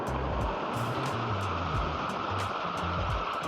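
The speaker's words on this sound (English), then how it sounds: "there's a bigger waterfall to the right here" A powerful waterfall in Guadeloupe, heavy water at high pressure crashing nearby in a loud, unbroken roar that fills the whole moment.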